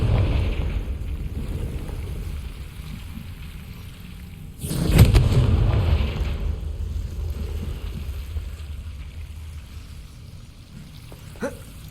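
A Confringo explosive spell blast in the Hogwarts Legacy video game: one sudden, loud rumbling burst midway that decays slowly over several seconds, over a quieter low ambient bed, with a small crack near the end.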